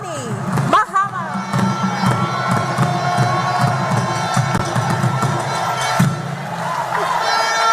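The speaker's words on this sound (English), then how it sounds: "with a standing ovation and a rounds and rounds of applause" A packed London town hall crowd gives Ghana's President John Dramani Mahama a standing ovation. Loud, dense cheering, whoops and clapping fill the room steadily from start to finish.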